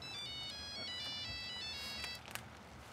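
A telephone ringtone plays a bright repeating electronic melody, steady and moderately loud for a few seconds over faint background noise, then cuts off.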